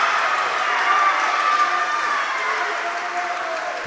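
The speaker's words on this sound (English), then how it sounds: "And you can hear the crowd in the background." Crowd noise at a high school volleyball match in a gym, a steady broad murmur of spectators cheering and shouting throughout, with some voices mixed in.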